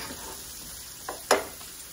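White or red onions stirred in a hot pan, a steady soft sizzle broken by two quick spatula scrapes near the end.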